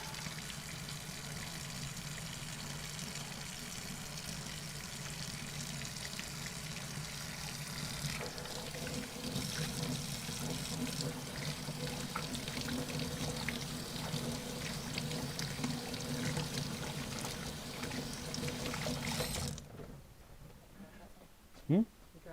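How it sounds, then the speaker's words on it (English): A tap runs steadily while someone washes their hands, a constant watery hiss lasting about twenty seconds before it cuts off abruptly, with faint voices in the background. "I gotta wash my hands."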